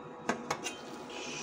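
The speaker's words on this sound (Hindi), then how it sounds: "अभी कवर हटाएंगे जी" Lid lifted off a pot of simmering mutton shinwari karahi: two or three sharp metallic clinks close by in quick succession, then a quiet, steady hiss.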